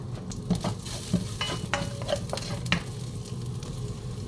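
Garlic fries in a hot pan of pork for a milk braise, giving a steady close sizzle with the scrape and clack of a utensil stirring through it now and then. No one speaks.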